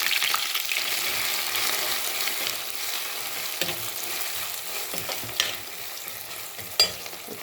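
Mustard seeds and fenugreek splutter in hot oil while a fish chili curry is being made, a steady close sizzle broken by scattered sharp pops and crackles, with no talking.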